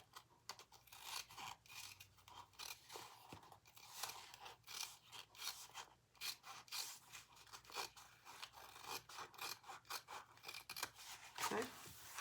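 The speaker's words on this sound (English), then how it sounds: "I'm just going to use my regular scissors." Ordinary scissors snip repeatedly through bag material for a Mallory mini crossbody bag, a dense run of close, rasping cuts with a voice talking faintly at times.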